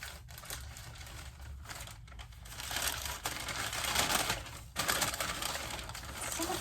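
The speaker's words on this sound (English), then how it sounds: "I have to open the package first." Paper packaging from a Sephora makeup order is torn open and unwrapped. Close, uneven crinkling and rustling comes in bursts with brief pauses and grows busier and louder toward the end.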